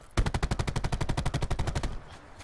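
Rapid automatic gunfire in Call of Duty Black Ops 4 battle royale, a loud close burst of about twenty evenly spaced shots over two seconds, followed by a brief fading tail.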